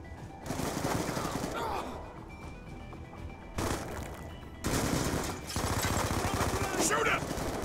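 Call of Duty Black Ops 2 multiplayer gunfire comes in loud, rapid automatic bursts separated by short lulls, with dense crackling shots near the listener and a voice talking faintly underneath.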